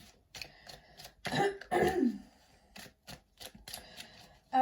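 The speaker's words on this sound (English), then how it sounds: "Clearing my throat feels significant" A person clears their throat a couple of times up close, with soft shuffling and tapping sounds around it.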